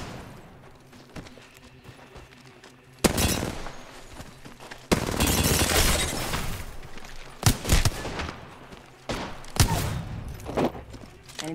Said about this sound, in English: They spotted me. I'm taking a shot.